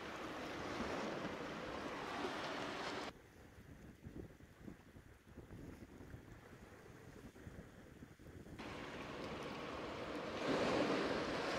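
Ocean waves wash ashore under gusting wind. The sound is soft and distant, with the surf swelling louder at the start and end and dipping quieter in the middle.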